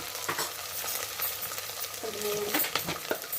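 Onions and ginger paste fry in a pan for a mutton curry, with a steady sizzle broken by several close clinks and scrapes of stirring, and a voice in the background.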